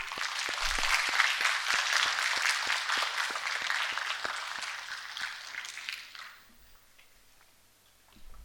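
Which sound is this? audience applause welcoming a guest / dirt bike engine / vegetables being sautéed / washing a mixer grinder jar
audience applause welcoming a guest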